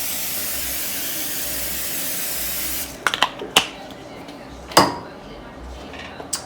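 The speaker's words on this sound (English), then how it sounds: "I have this canola cooking spray that I'm just going to spray this pan on" A steady aerosol hiss of canola cooking spray onto a pan lasts a few seconds, then stops, followed by light clinks and taps of the pan being handled.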